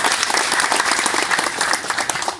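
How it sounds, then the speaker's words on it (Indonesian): Audience applauding at a formal regional government ceremony in Bengkayang, Indonesia, loud dense clapping that continues steadily throughout. "Tepuk tangan untuk beliau."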